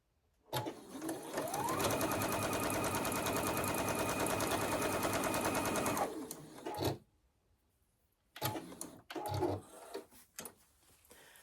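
A sewing machine stitches Double Wedding Ring quilt pieces in one steady, loud run of about five seconds, then stops, followed by a few short bursts of handling and fabric noise.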